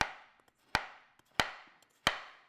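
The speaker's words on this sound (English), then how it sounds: "I just finished slicing the bananas." A knife slicing frozen bananas on a cutting board, four sharp, evenly spaced chops close up with brief ringing decay and faint small taps between them.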